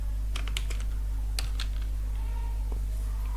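Keys clack on a computer keyboard as a line of text is typed, a handful of close, crisp taps in a quick cluster and a few more after, over a constant low electrical hum.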